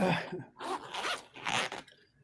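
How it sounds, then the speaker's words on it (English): A zipper drawn along a durable canvas bag, three rasping pulls in quick succession, close and fairly loud, with no talking over it. "well, let me zipper it."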